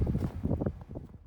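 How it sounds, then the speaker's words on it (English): Wind gusts roughly against the microphone outdoors in downtown Lawshee, Ohio, beside a train track after snow, a loud buffeting rumble that surges and fades over a second or so. "it really got windy"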